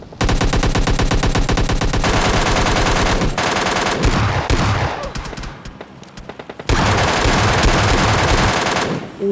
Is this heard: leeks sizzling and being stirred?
no